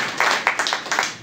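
An audience at an organic farming products seminar clapping, a short burst of several claps that thins out over about a second.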